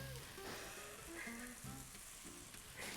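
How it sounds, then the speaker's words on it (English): Egg fried rice stir-fried in a pan over high heat, a steady close broadband sizzle running throughout with occasional soft stirring scrapes and a faint tonal hum beneath. "Keep that heat really nice and high. It's called a stir fry for a reason. So do fry it and stir it."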